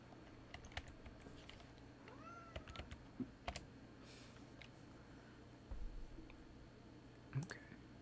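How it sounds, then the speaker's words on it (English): A hungry pet cat meows a few times at moderate distance over quiet room tone, with scattered keyboard typing and clicks nearby and no talking. "Sorry, my cat is not happy."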